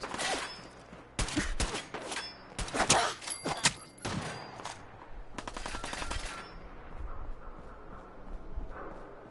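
Gunfire in the Fallout 4 video game: several rapid bursts of automatic shots crack out in quick succession, fairly close, then a scattered volley and a quieter tail.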